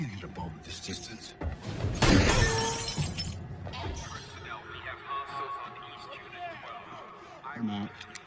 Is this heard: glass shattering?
yes